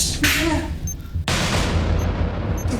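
A bomb explosion sound effect in a TV drama bursts loudly with crackling blasts, then a heavy sustained roar and rumble after a short break.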